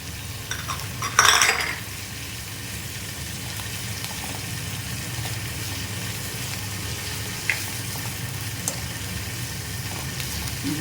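Salted onions sauté in a pan for masala dosa, with a soft continuous sizzle, a sharp metal scrape of a spoon near the start and occasional light stirring clinks.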